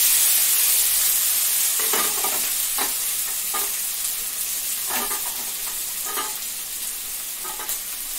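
Cauliflower, cabbage, peas and beans fry in hot oil for Maggi. A loud, steady hiss of frying runs throughout, with stirring scrapes recurring every second or so.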